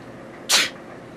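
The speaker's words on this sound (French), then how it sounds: "Vous avez éternué." A single sharp sneeze from a character in the video game Persona 4 Golden, a short bright burst over faint background hiss.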